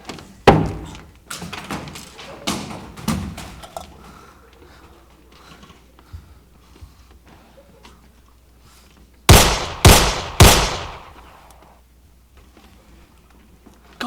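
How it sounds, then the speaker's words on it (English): Sharp, loud bangs from a stage play, a few scattered early shots followed by a quick burst of three close blasts near the end, with quiet room tone between. "Gunshot?"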